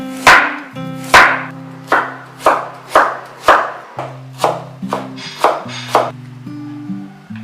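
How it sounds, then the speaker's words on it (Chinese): A knife slicing and mincing half a peeled, washed carrot on a chopping board, about a dozen loud, crisp chops in a fairly even rhythm with brief pauses, close and alone. "半根去好皮、洗干净的胡萝卜，先切片剁碎"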